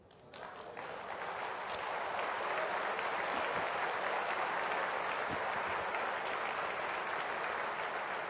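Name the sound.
congregation applause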